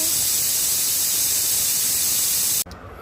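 A pressure cooker boiling mangoes with a little salt lets out a loud continuous hiss of steam that cuts off abruptly near the end, leaving quiet.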